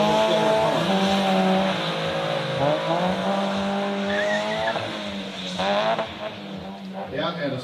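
A drift car spins out during a drifting competition, tires squealing in long sliding howls while the engine revs and drops, close and loud, with a commentator talking over it.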